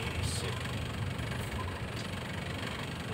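A car engine idling steadily just after a decarbonizing engine tune-up, giving a continuous close low rumble with even vibration and no talk.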